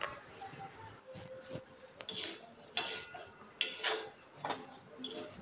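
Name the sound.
sautéing food in a pan on low gas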